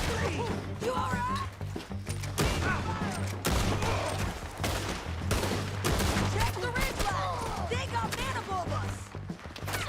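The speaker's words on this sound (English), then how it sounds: "Why are you suddenly shooting very loudly?" Gunfire in a Red Dead Redemption 2 shootout, with loud repeated shots crackling in dense bursts throughout, over a steady low game hum and with voices talking.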